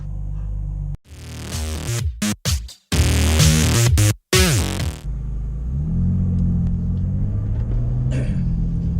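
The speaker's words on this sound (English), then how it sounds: "So this is the 2014 BMW M4. It is a 3-litre straight 6 twin turbo with 424 horsepower." Engine of a 2014 BMW M4 with a 3-litre twin-turbo straight six, starting with a loud, harsh roar broken by brief gaps, then settling into a steady, deep idle rumble, no talking.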